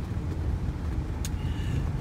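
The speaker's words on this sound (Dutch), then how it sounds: "we zitten nu even weer voor de zoveelste keer in de bus" Inside a moving bus during a holiday trip in Thailand, a steady low engine and road rumble fills the cabin, with a brief rattle or click partway through and no talk.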